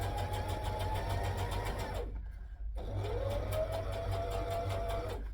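A home sewing machine stitching fabric for a McCall's M8083 garment, running in a steady rapid mechanical whir that stops briefly for under a second, then resumes at the same pace.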